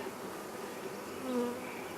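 Honeybees buzz around an opened hive during the first spring inspection, a soft, steady drone with one brief, slightly louder hum near the end.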